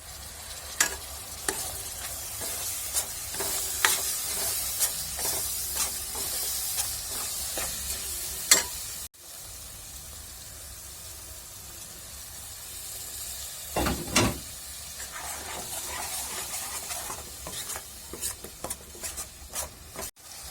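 A masala paste tadka fries in ghee for matar paneer, with a continuous close sizzle broken by repeated scraping stir strokes and a brief louder clatter near the end, with no voices.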